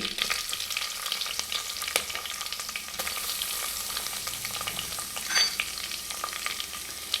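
Curry leaves and crushed garlic sizzle in hot oil as a tempering for a vegetable-free sambar, with a loud, steady crackle that runs unbroken throughout and no voices.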